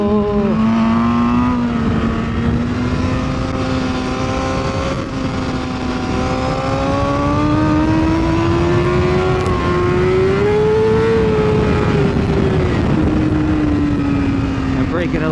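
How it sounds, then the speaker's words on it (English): A BMW S1000RR motorcycle accelerates on the Ridge Motorsports Park race track, its engine note droning loud and steady from onboard and rising gradually in pitch, with heavy wind rush underneath. "Gotta accelerate between these two corners a bit."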